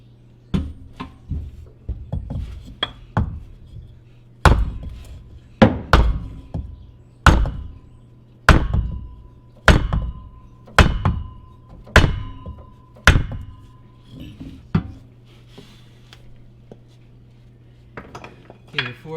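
A hammer strikes a wooden block again and again during a Ford 8.8 rear axle swap, sharp knocking thuds in irregular bursts with brief pauses, close and loud over a faint steady hum.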